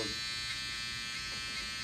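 An electric shaver buzzes steadily and loudly up close while cutting hair on a client's head during a fade haircut in a high school barbering class, with no talking.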